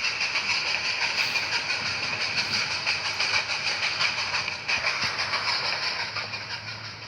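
A train rolls along in a video game with a steady rhythmic clatter over the rails and an engine drone underneath, continuous and fairly loud.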